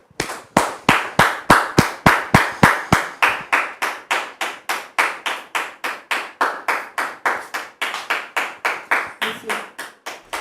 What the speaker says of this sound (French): On va recevoir donc Dame Rebecca sous vos applaudissements.